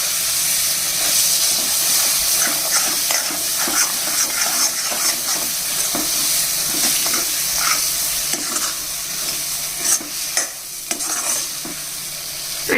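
Chana dal chutney sizzles steadily in a pan on a low flame, with repeated scraping and stirring strokes of a spoon over a continuous close frying hiss, no voices.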